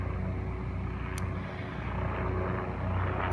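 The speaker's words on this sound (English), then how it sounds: "I think it's a small plane" A small propeller plane drones steadily overhead, a low humming engine that holds level, with one faint tick partway through.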